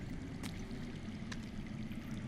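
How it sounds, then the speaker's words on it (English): Water flows steadily underground in a Game of Thrones video game, a soft, continuous rushing stream with a faint trickle, heard alone. "I hear water. From underground."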